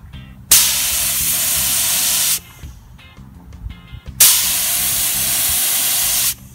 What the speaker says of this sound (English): We're gonna be spraying it onto this scrap of wood just to make sure that we have flow.